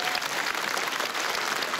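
An audience applauding at a comedy club stand-up show: a short burst of dense, even clapping, fairly distant and uniform throughout.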